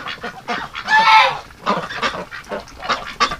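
Ducks in a coop on a cold day giving a run of loud, close, nasal quacks and honks, several birds overlapping in uneven bursts with no talking.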